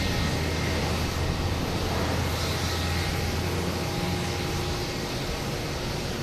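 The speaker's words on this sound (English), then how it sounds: "we have a JetBlue coming in from Charleston," A JetBlue Airbus A220 arriving from Charleston makes a steady, broadband jet roar as it comes in to land at Boston Logan, continuous and moderately distant throughout, with no voices.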